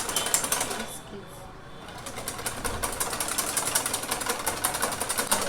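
Two eggs with sugar whisked for a soufflé omelette, a fast rhythmic mechanical whirring like an electric mixer, steady and close after a brief dip, with speech faintly underneath.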